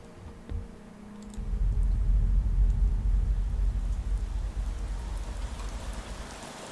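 Rain falls in the video game Persona 3 Reload, a dense hiss that swells in after a quiet second and keeps up as a steady, moderately loud pour with faint clicks scattered through it.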